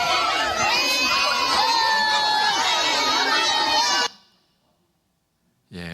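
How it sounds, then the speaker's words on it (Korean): Children at a free meal center in Malawi shout and cheer loudly together, a dense excited roar of young voices that cuts off abruptly near the end. "목요일마다 저렇게 아주 환호성입니다"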